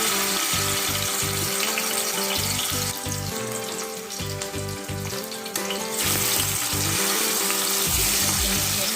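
Fish fries in hot oil in a wok, a loud, steady hiss and crackle that runs throughout with a bright, broad sizzle and some low rhythmic thumping underneath.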